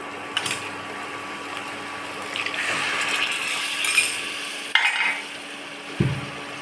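Fenugreek leaf rice is stirred and sautéed in a pan, with a few sharp scrapes and clinks of the utensil standing out over a faint, steady sizzle.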